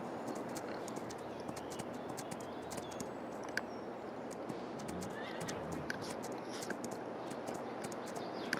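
Horses being taken out for a ride make scattered clip-clop hoof sounds and brief whinnies against a dense outdoor background with birds, moderately distant and fairly steady throughout.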